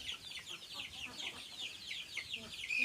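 Chickens clucking and chattering softly in a continuous busy murmur, with a few sharper calls rising near the end.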